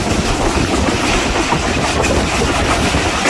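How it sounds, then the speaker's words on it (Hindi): The Rehman Baba passenger train from Karachi to Peshawar rolls along at speed with steady, loud rumbling and rattling throughout, a continuous clatter of wheels on track and no voices. "गाड़ी फुल अच्छी स्पीड में जा रही है इस वक्त"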